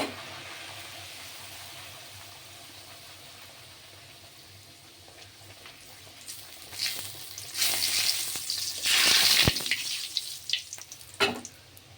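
Pea-stuffed kachuri dropped into hot oil in a wok: quiet at first, then a loud rising sizzle and crackle of frying that peaks and fades in bursts.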